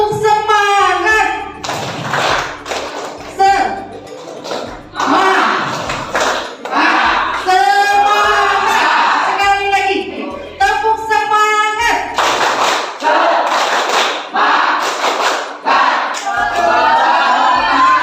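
A classroom group stands and performs a rhythmic spirit clap as an ice-breaker, bursts of unison clapping in repeated patterns alternating with chanted voices, loud and close.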